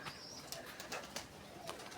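Pigeons coo softly at a distance in an outdoor neighbourhood in December, with low repeated calls over a faint background.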